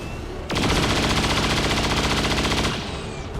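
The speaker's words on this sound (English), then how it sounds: "Could go for a chain shot here." Sustained automatic gunfire from a chain shot in XCOM 2, loud and rapid, a dense rattling burst of about two seconds set against quieter game ambience.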